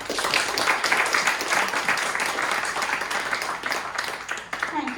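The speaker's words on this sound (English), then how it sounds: "Please, a round of applause for Ariana, please." Audience applause for a speaker joining a tech panel, a continuous burst of clapping from a room of people that starts strong and tapers off toward the end.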